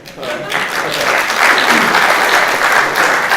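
An audience at a policy talk breaks into applause, the clapping starting abruptly and swelling into a dense, steady patter that holds for a few seconds.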